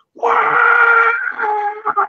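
A person's voice imitates a horrible draconic scream, a loud drawn-out wailing roar that breaks into shorter strained bursts at the end.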